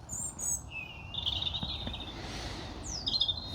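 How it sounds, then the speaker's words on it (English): A small bird sings nearby in high, trilling phrases and thin whistles, over a soft steady outdoor rumble of breeze. "little bird singing away"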